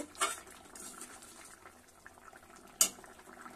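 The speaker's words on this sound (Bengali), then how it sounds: "ফুটে আসলে আমার ঝোলটা রেডি হয়ে গেছে" Rui fish curry with potol and potato bubbles quietly in a pot, with soft simmering beneath a couple of sharp metallic clinks of a utensil against the pot.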